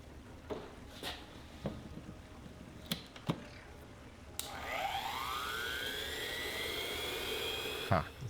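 A lathe tool post grinder spools up to 15,500 RPM with a rising, jet-like whine that sweeps upward and holds loud and steady, after several sharp clicks and knocks.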